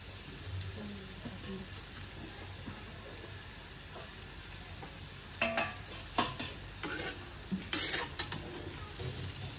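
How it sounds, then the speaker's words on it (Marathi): Battis, dough pieces for a Shravan varan-batti dish, fry in hot oil with a faint, steady sizzle, then several sharper crackles and spatters cluster in the second half; no one talks. "तेल गरम झाले, बट्ट्या टाकल्या."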